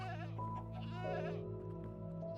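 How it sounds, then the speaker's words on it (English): Goats bleat in the video game Minecraft, a couple of wavering, nasal calls layered over a steady low game hum, close and fairly clear, with no talk. "So we have 2 more goats. And now we have these goats,"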